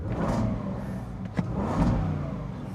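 A 2026 Land Rover Defender 110 with a supercharged V8 revs briefly against a soft limiter near 4,000 RPM, with a faint supercharger whine. It is a short, fairly quiet engine swell heard from inside the cabin, with no talk.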